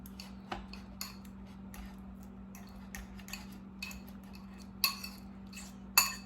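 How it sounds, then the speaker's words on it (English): A fork clinks and scrapes against a bowl while mashing banana and mixing banana chocolate chip protein muffin batter, with scattered light taps and two sharper clinks near the end over a steady low hum. "So mashing the banana and mixing all this stuff real good together"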